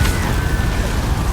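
A Confringo fire spell blasting in the video game Hogwarts Legacy: a short, loud, dense burst of roaring, crackling noise with a heavy low rumble, filling the whole moment.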